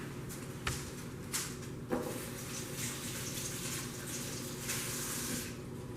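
A kitchen tap runs steadily as a dirty casserole dish is rinsed under it, a continuous close splashing hiss broken by a few brief knocks and sprays, with no talking.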